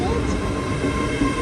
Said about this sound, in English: we've got a 10-car train